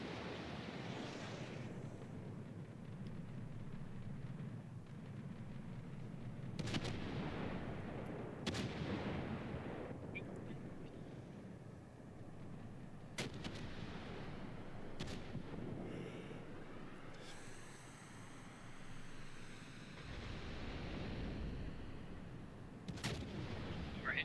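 Repeated bomb blasts in an action video game, a sustained roaring rumble broken by several sharp explosive cracks, loud and continuous across the stretch with no talking.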